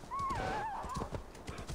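Horse in Assassin's Creed Valhalla giving a loud whinny that wavers up and down, with clip-clopping hooves underneath and continuing after it fades.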